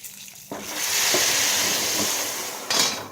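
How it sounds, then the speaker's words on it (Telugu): Raw tamarind dal is poured into hot tempering in a pan, a sudden loud sizzle that swells and holds, then flares up again near the end. "ఇప్పుడు ఈ పప్పుని తాలింపులో వేసుకోవాలండి."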